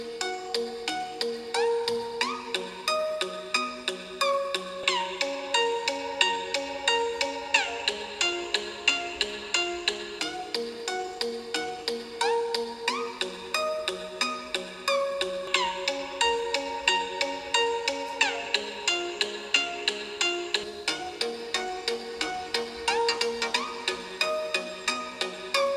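A Xiaomi Redmi 5 Plus phone speaker plays a melodic ringtone loudly and steadily, its bright tune repeating in looping phrases, with no talking.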